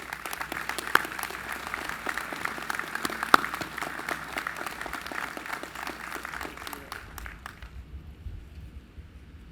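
At an evening candlelight vigil, an outdoor audience gives a moderate round of applause to welcome a guest, the scattered clapping thinning and fading out near the end.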